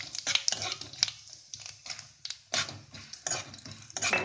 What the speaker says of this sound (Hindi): घी हमारा गर्म हो चुका है, अब इसमें डालेंगे सौंफ। इसको थोड़ा चलाएंगे